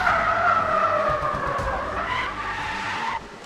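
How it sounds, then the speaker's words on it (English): Sustained tire skid screeching from the racing game Need for Speed The Run, with a revving engine underneath, loud and continuous for about three seconds before cutting off abruptly. "This is all the logic that goes into just playing this tire skid sounds."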